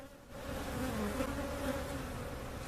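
Honey bees buzz steadily around a giant hive cutout newly relocated at a bee farm, a dense continuous swarm drone that fills the whole stretch at fairly even loudness.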